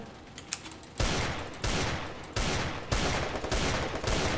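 Gunfire in the video game Free Fire: loud, rapid automatic bursts repeating in several sustained volleys, each cut off sharply before the next, with no voices over them.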